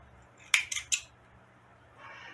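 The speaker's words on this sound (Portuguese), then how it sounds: "Aí eu vou cortar os pontos do aniavo." Scissors snip through sewing stitches on a handmade felt or fabric sheep craft: three quick, crisp close cuts in a row, then a soft rustle of handling.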